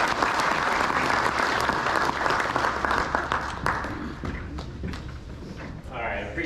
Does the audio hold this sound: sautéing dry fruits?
no